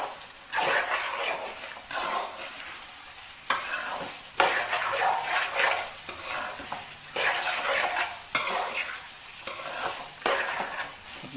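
Chilli powder being stirred into chicken frying in a pan, repeated scraping strokes of a utensil against the pan over a steady sizzle, close up with no talking.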